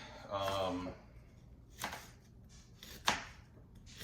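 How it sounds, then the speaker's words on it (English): A knife chops through an onion on a board for a Philly cheesesteak tortellini dish, with someone talking briefly first, followed by two separate sharp chops. "I've got to cut onion and pepper"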